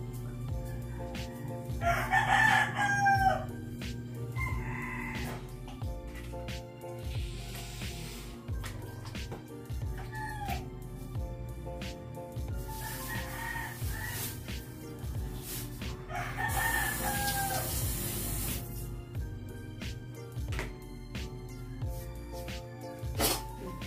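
Roosters crow several times, some nearby and some farther off, over a low steady background hum.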